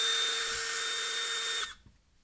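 A power driver on a Milwaukee M18 tool whines steadily as it backs out screws, a close, loud, even buzz that stops abruptly and leaves near silence.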